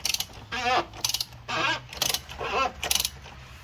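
A plastic oil filter housing cap on a 2017-2021 Jeep Grand Cherokee is turned loose by hand, giving a series of close creaking, ratcheting bursts in a slow, uneven rhythm.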